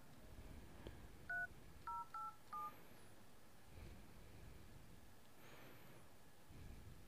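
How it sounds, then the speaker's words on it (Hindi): Telephone keypad DTMF tones, a short run of about five distinct beeps dialed in quick succession on a phone while testing a caller ID and call recorder app, clear over a quiet room background with no talk. "इधर से मैं डायल करता हूँ"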